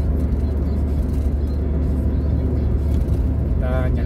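A car cruises fast along an open road while overtaking on the left, with a steady low engine and road rumble, wind noise and a brief tonal whine near the end.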